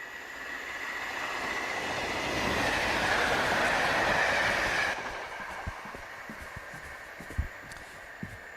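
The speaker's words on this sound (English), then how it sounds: "If you can hear the sound of a train or horn or whistle, stop and wait for the train to pass." A train rolls past on rails, a loud broad rumble with a steady squealing tone that builds and then cuts off abruptly, followed by quieter clicks and knocks as it moves away, with no voices.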